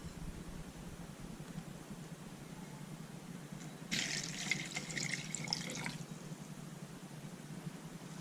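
Water pours into a rock tumbler drum loaded with pennies and stainless steel pins, a faint two-second splashing stream rising over a quiet background hum.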